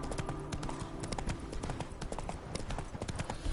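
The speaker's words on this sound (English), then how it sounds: "Spooking my horse. Roach doesn't like ghosts." Horse hooves clip-clop in The Witcher 3 video game, a steady, close trotting rhythm of sharp hoofbeats over a busy ambient game background.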